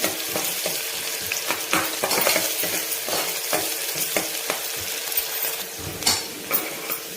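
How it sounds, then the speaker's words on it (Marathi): Onion sautéing in a pan until golden for a spicy mutton methi curry: a loud, steady sizzle throughout, broken by regular scraping stirs of the spatula, with no voices. "कांदा आता छान परतून झालाय"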